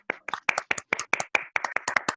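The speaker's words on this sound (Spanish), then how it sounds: "Aplausos." A small group claps at a tourism training session, a quick, evenly spaced series of about a dozen sharp, close hand claps alone, with no talk over it.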